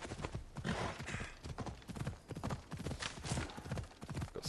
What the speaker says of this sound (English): Flamey horse, come here,